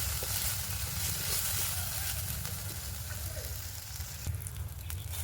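Ground spice masala with a little garam masala stir-frying in a karai, a steady continuous sizzle close up, alone with no talk and a few faint scraping touches.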